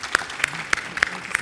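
A small audience at an informational Q&A gives brief applause for the state board officers, a short burst of scattered, fairly sparse hand claps in a room.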